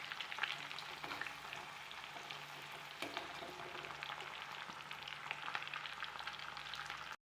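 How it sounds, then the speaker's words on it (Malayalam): Green chillies and curry leaves fry in oil for a beef pickle, making a soft, continuous crackling sizzle with occasional spatters and a few stirring clicks throughout, then stopping abruptly at the end. "പച്ചമുളക് കറിവേപ്പിലൊക്കെ മൂപ്പിച്ചെടുക്കാം അതൊന്ന് വാട്ടിയെടുക്കാം"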